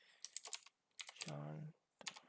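Keys tapped on a computer keyboard while a new password is entered, in short bursts of clicks separated by brief pauses, with a low hum or tone partway through.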